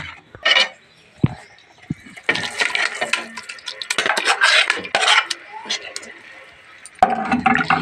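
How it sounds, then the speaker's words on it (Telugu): Vermicelli and boiled sago stirred into a pot of boiled milk, with scraping and clinking of a spoon against the pan in uneven bursts, near and fairly loud, over background clatter. "సేమియాలు వేసిన తర్వాత అలా తిప్పుతూనే ఉండాలి, లేదంటే అన్నీ ఉండలు కట్టేస్తాయి అన్నమాట"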